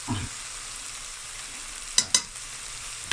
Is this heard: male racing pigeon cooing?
no